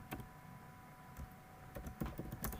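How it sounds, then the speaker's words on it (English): Quiet, scattered keystrokes on a computer keyboard while a file is edited in a Ruby on Rails app, a few soft taps near the start and a denser cluster of clicks toward the end over faint room hum. "here I am going to type in"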